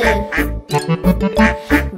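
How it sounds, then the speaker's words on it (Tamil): Rhythmic cartoon duck quacks from a Tamil children's rhyme about five little ducks going swimming, set over a bouncy musical backing, loud and close in a steady beat. "அம்மா வந்து அழைத்தது குவாக் குவாக் குவாக்"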